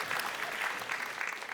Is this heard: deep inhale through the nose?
no